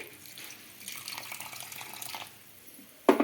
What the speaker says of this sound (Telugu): ఇక్కడ వేడి నీళ్ళే వేస్తున్నానండి